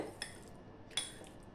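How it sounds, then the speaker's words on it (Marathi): White turmeric (amba-halad) pickle being mixed with cooled oil, giving two sharp clinks of a spoon against a dish and then soft, quiet stirring scrapes, with no talking. "हे छानपैकी मिक्स करून घ्यायचे"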